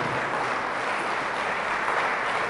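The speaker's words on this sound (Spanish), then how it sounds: "Fuertes aplausos al Señor" Church congregation applauding loudly during a sermon, a dense, continuous roar of clapping from a large crowd, steady and full for the whole stretch.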